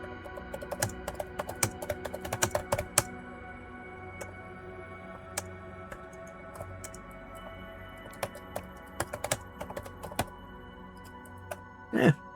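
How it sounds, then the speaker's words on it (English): Typing on a computer keyboard, quiet close-up clatter of keystrokes in irregular bursts, busiest early then sparser with pauses, a brief louder cluster at the end. "I was just typing."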